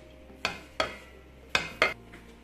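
Spoon stirring Worcestershire sauce into Chicken Manchurian in a pan off the flame, four distinct metallic scrapes and clinks in an uneven rhythm, close and fairly quiet.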